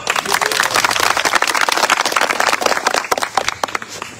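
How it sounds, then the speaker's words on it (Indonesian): Audience at an Easter seminar breaks into applause, a dense burst of many hands clapping that swells and then thins into scattered claps by the end. "Oh, tepuk tangan dulu."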